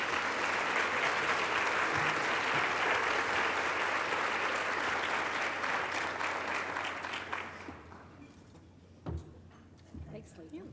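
Warm audience applause welcomes speaker Jennifer Way, a steady full-room clapping that holds for several seconds, then thins and fades out into scattered claps and room noise.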